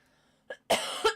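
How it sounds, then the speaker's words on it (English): A single harsh cough, close and loud, preceded by a small throat sound and ending in a second rasping burst. "I'm like coughing"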